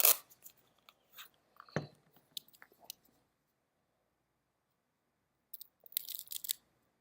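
Punch Gusto cigar being cut indoors, with crisp snips and a short crunchy clip up close, scattered small crackles, a long quiet stretch, then a brief rustling burst near the end.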